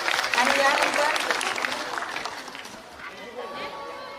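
Applause at a school cultural programme, a burst of audience clapping that is loudest at the start and gradually thins out, with a voice speaking over the tail.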